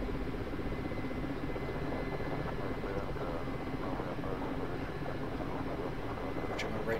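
A helicopter in the DCS flight simulator holds a steady, dense drone of engine and rotor noise throughout, with a faint short high tick near the end.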